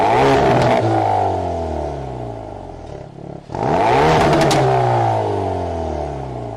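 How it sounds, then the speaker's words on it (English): A Hyundai Veloster N with an adaptive exhaust revs loudly and close up, climbing and falling twice with a short break in between, a sharp rasping engine note without clearly separate pops. "It also had an adaptive exhaust that was capable of generating a ridiculous amount of pops and bangs."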